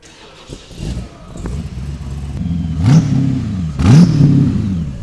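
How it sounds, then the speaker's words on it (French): A large V8 engine on a Boss Hoss motorcycle starts and rumbles, then revs twice in quick surges, loud and close, its deep idle continuing between bursts. "Dès qu'on va démarrer la moto"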